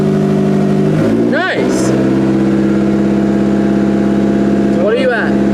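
A car engine held near 1500 RPM during a calibration, a loud steady hum with harmonic drone, two sharp rev swells rising and falling, and people talking over it.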